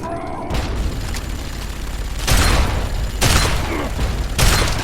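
Minigun fire in Fallout 3 comes as heavy, loud roaring bursts repeating every second or so, each a dense rattling boom over steady game background noise.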